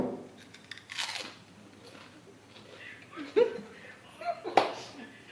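Crispy gupchup (pani puri shells) is bitten and chewed close to the mic, giving several sharp crunches spread over a few seconds, with talking and some background voices in between.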